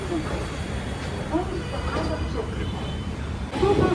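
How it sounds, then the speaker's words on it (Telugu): Low rumbling of a metro train in motion with a steady hum, interior cabin noise, and faint voices murmuring in the background. "ఇప్పుడు మెట్రోలో వెళ్తున్నాను"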